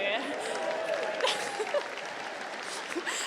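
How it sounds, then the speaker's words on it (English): Audience applause fills a comedy gala theatre in Melbourne, a loud burst of clapping that starts at once and tapers off over about three seconds. "I didn't expect you to clap there."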